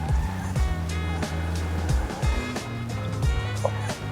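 A car drives through rain in Grand Theft Auto V, its engine droning with shifting tones over a constant hiss of rain and road spray, close and moderately loud, with no speech.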